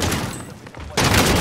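Shotgun fire in a Modern Warfare Warzone match, a loud blast at the start, then a brief lull and another heavy burst of shots, with speech mixed in.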